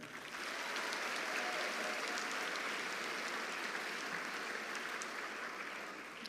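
Steady applause from a large commencement crowd, sustained and even for several seconds, with no voices standing out.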